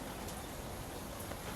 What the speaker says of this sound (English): It is windy and raining